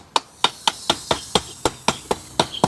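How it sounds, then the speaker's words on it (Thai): A hammer strikes the lid of a thick steel brick mold about ten times in an even rhythm, each blow a sharp, close metallic knock with a short ring. "แม่พิมพ์ของเราเป็นเหล็กหนาครับ สามารถตอกได้เลย"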